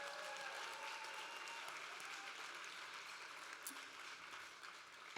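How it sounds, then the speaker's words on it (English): Applause from a gala audience at an anniversary celebration, a steady broad wash of clapping held for several seconds at low, distant level with no voices over it. "let's give them a round of applause before we move on"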